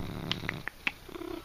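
A pet cat purrs softly up close, a low, quiet rumble broken by a few short higher squeaks and soft chirps, with no talking.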